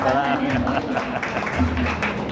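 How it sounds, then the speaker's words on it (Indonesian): Hall audience clapping at a talk on zakat and social welfare, honouring zakat workers: a steady wash of applause mixed with voices and murmuring throughout the short stretch. "Ya, tepuk tangan buat para amil ini"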